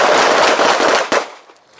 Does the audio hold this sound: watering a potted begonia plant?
no